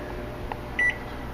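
A kitchen oven's control panel, running at 400 degrees while baking salmon with butternut squash and garlic, emits a single short electronic beep as a 15-minute timer is set, over a steady background hum.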